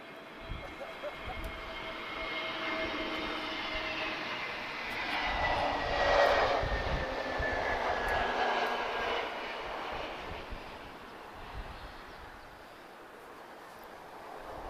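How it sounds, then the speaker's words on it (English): A Lockheed C-130 military transport turboprop taxiing at Lisbon Airport, a steady, moderately distant engine drone with a rising and falling whine that swells in the middle and then eases, with no talk over it. "And the C-130's on the move, guys."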